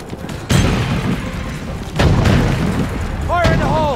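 A grenade explodes in the multiplayer shooter Resident Evil: Operation Raccoon City, with two loud deep booms about a second and a half apart over steady battle noise, followed by a burst of chirpy electronic tones.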